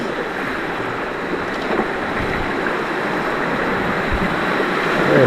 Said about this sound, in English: And here's another nice little set of rapids.